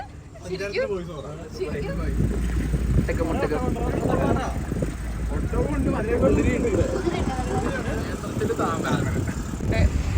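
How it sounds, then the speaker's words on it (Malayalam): Motorboat engine drones steadily on open water while people chat loudly nearby throughout. "നമ്മളിപ്പോൾ ബോട്ട് റൈഡിൽ പോവാണ്."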